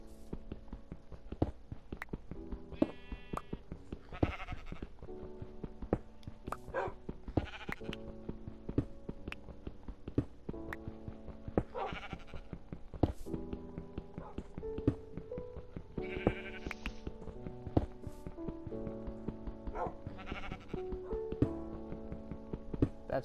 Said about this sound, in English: There's sheep.